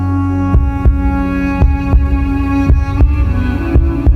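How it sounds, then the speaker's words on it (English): A human heart beating in a slow, steady rhythm of dull low thumps, about eight beats, close and loud over a constant humming drone. "The sound of a man's heart."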